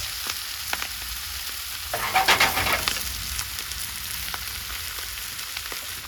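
Kale sautéing in a pan next to an outdoor barbecue, a soft steady sizzle with a brief louder crackling flare as food or oil hits the hot surface, birds cooing faintly in the background.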